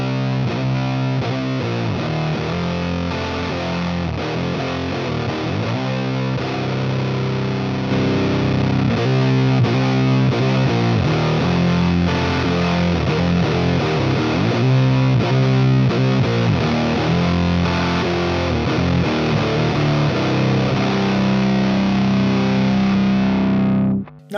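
An electric guitar played through JPTR Warlow and Big Muff fuzz pedals gives a thick, heavily distorted, sustained tone, loud and continuous with chords and riffs ringing out before cutting off abruptly at the end.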